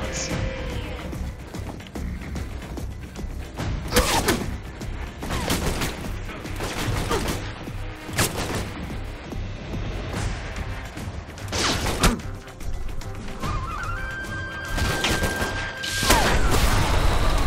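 Gunfire in the video game Alpha Protocol, repeated shots and booming impacts over a dense, continuous layer of game action, loud and sustained with a tonal beep near the end.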